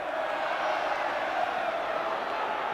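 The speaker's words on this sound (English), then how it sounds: "And just listen now to the noise of this Hereford crowd." A Hereford football crowd at a 1985 FA Cup third-round tie roars after the equaliser, a broad sustained din from the stands that stays loud and even throughout.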